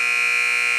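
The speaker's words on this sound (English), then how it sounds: "then probably you'll hear the buzzer go off" A basketball scoreboard buzzer at a girls' varsity game blares steadily to end the quarter, a loud, unbroken electronic tone that holds for the whole moment.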